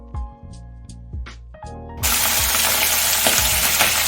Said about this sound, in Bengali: তো জোরে ফুটতেছে তেলটা।